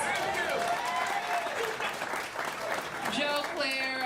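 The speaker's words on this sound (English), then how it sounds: "Give Joe Claire a big round of applause." Applause from an audience at a Black History Month kickoff held in a Washington, DC jazz, soul and R&B venue, a steady dense wash of clapping with a voice speaking over it and rising tones near the end.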